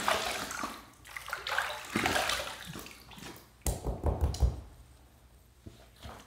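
Water runs and splashes as a razor is rinsed after a first shaving pass, a few brief sloshing bursts and knocks near the microphone, with quieter watery noise before and after.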